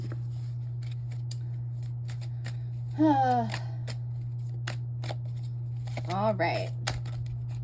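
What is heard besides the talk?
shuffling tarot cards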